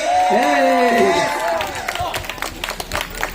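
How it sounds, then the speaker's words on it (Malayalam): At a prize draw, a crowd starts clapping for the first-prize winner, coupon number 42, after an amplified voice speaks; the applause comes as scattered, moderately loud claps that continue to the end. "ഒരു കൈയടി."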